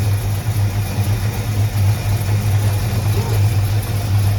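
A car engine idles during adjustment, a steady low rumbling drone with a slight rhythmic pulse, close and loud throughout.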